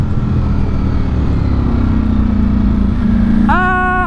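A Ducati Streetfighter V4 motorcycle accelerates with a loud, steady, close engine roar that rises sharply in pitch near the end as more throttle is given.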